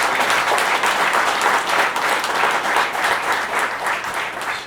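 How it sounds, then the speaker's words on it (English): A dense, steady round of applause fills the hall at a Department of Defense Pro Patria Award presentation, welcoming the Arkansas Trucking Association president. The clapping is continuous and close, with no break for the full stretch. "give her a round of applause"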